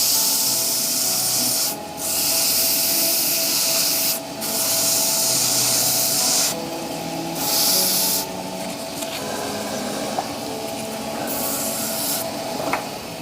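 Continuous hissing abrasion of sandpaper against a spinning stabilised amboyna burl shaving brush handle on a lathe, close and loud, broken by several short pauses as the paper lifts away.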